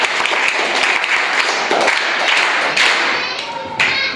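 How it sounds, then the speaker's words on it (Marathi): Schoolchildren in a primary school classroom clap together for a classmate, a loud, close burst of rapid, uneven hand claps with a few thumps and faint voices mixed in. "वैष्णवीसाठी सगळे टाळ्या वाजायचं आहे"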